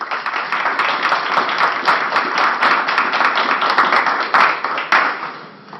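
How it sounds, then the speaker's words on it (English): An audience applauds steadily for nearly six seconds to welcome a speaker at a Darwin Week lecture, many hands clapping in a dense, even wash before fading out at the end. "Please give me a round of applause"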